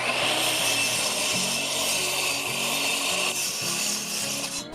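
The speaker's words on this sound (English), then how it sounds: "I actually cut both ends of the timber" A handsaw cuts through the end of a timber board in steady back-and-forth strokes, close and loud, with a raspy wooden scrape that repeats rhythmically without pause.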